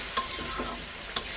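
Spice masala for an egg curry sizzles in a hot pan as a utensil stirs it, with two sharp scrapes against the pan about a second apart over a soft, continuous frying hiss.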